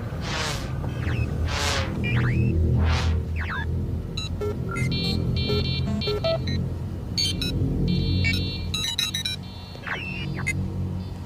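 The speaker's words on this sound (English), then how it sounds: "start your engines" Engines start and settle into a loud, steady low rumble, overlaid with whooshing sweeps and bursts of rapid electronic beeps in a sci-fi setting; no one speaks.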